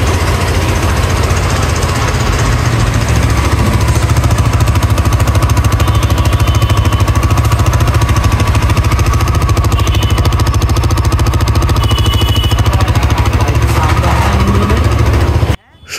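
A serviced Lifan KPR 150cc motorcycle engine runs close and loud, with a continuous rapid rough idle and mechanical clatter, cutting off abruptly at the end.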